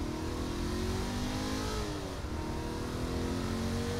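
A car engine revving and accelerating in Saints Row IV, the pitch climbing steadily, dipping at a gear change, then rising again, loud and close with no talk over it.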